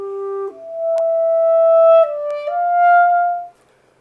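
A clarinet plays a short, gentle phrase of a few smooth notes, soft and even, with faint key clicks between them.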